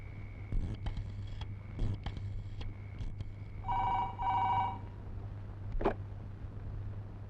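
Telephone rings on an outgoing call with two short electronic trill bursts, fairly faint over a low steady hum and scattered clicks and bumps.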